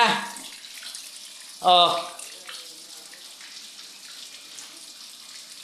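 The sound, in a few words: water flowing from a full water tank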